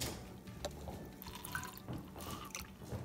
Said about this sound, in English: We'll add in some water.